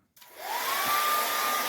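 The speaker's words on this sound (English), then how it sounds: "we're going to be using a hairdryer to actually shrink wrap the plastic on the window." A hair dryer switches on and quickly builds to a steady, loud whooshing blow with a thin whine, running without pause while heat-shrinking plastic film over a window.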